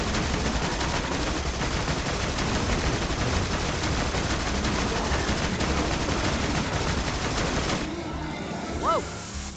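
Continuous rapid gunfire rattles from a car in Borderlands 2, dense and loud for most of the stretch, then cuts off to quieter game ambience near the end.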